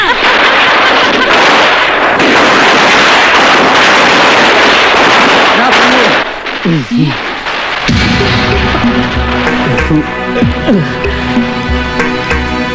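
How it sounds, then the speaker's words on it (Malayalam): Firecrackers burst loudly close by in a dense, crackling barrage for about six seconds, then the noise drops away and background music and sound effects take over. "പൊട്ടിക്കണോ പടക്കം?"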